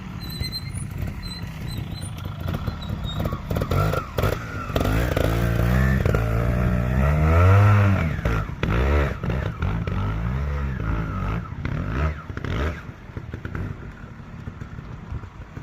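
A trials motorcycle climbs a dirt hill in fourth gear, its engine revving and rising to a loud peak mid-climb while dirt pops off the rear tire, then settling back with clattering and scraping.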